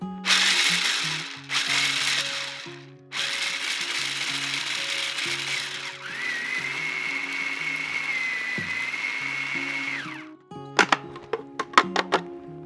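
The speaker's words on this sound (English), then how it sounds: "We're going to pulse this several times until the nuts reach the consistency of coarse sand." Food processor pulsing raw nuts into flour: loud motor bursts start and stop in repeated pulses with rattling, grinding texture, followed by a few sharp knocks near the end.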